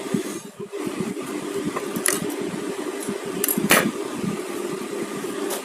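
A sewing machine runs a short reverse stitch of about half a centimetre, giving a steady close mechanical hum and rattle with a few sharper clicks as the fabric is turned.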